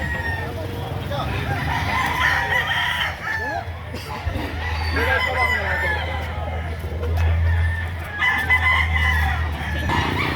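A young gamecock stag of eight to nine months crows in a yard near other fowl, clucking and voices around it, with a steady engine hum beneath.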